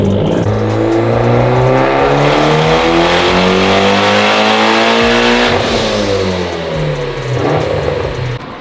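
A tuned Mitsubishi Evo X running about 20 pounds of boost roars on a dyno, its engine climbing steadily in pitch through a long, loud pull, then backing off briefly and rising again.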